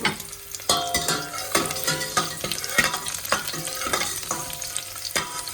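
Crushed garlic with dried and green chillies sizzles in hot oil for a rasam tempering, a steady frying crackle broken by repeated stirring scrapes of a spoon against the pan, close and continuous with no voice.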